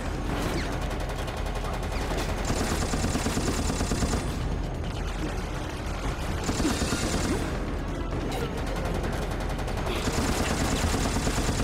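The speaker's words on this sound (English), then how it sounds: "That's like the most generic stock machine gun sound ever." Stock machine gun fire from the video game Resident Evil: Operation Raccoon City rattles on in long, dense automatic bursts, loud and continuous, with brief gaps between volleys and a faint background rumble.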